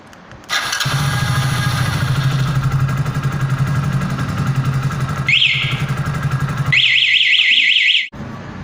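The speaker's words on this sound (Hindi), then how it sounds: "अब हम चेक करते हैं कि सेल्फ चलता है या नहीं चलता है।" A motorcycle self-starter cranks and the engine catches into a steady loud idle, while an anti-theft alarm lets out a short warbling chirp and then a longer rapid warbling burst before the engine cuts off.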